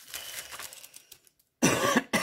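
A woman's cough, loud and close, comes as two harsh bursts after a quiet stretch, with faint soft sounds before them.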